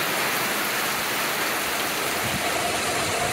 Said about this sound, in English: It's raining a bit out here in Southeast Texas.